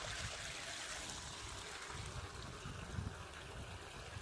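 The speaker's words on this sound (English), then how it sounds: "Clear water, running water from the mountains." Clear mountain water runs and trickles steadily, a continuous soft splashing rush heard close up and alone, fairly quiet throughout.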